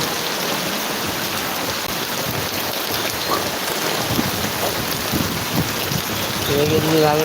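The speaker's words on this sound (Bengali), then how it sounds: "দেখেন বৃষ্টির অবস্থা বৃষ্টির আবহাওয়া" Heavy rain falls during flooding in Gazipur. It is a steady, dense roar of drops on surfaces that stays loud and unbroken, with faint rumbling underneath and brief low tones near the end.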